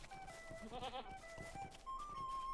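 A goat pet with a flower wreath and little poncho bleating in Lord of the Rings Online, a short wavering bleat set against steady game music, faint and alone.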